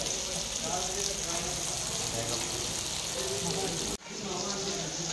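Onions and mixed vegetables fry in a pan in an Assamese home kitchen, giving a steady, close sizzle that runs throughout with a short dip near the end, with faint background hum beneath.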